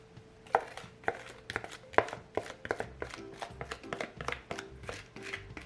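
A utensil scrapes pineapple apricot ham glaze out of a container, making a quick series of close, sharp clicking scrapes and taps at an irregular rhythm with no talking.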